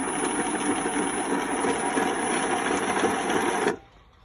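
Small robot motors whir continuously with a busy, buzzing mechanical hum as the machine drives and turns, then cut off abruptly near the end, leaving near silence.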